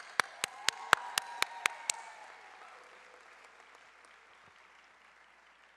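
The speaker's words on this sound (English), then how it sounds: "More round of applause." Applause from a graduation audience at Boston Arts Academy's class of 2023 ceremony: a run of sharp, evenly spaced claps over a broad crowd wash that fades away within a few seconds.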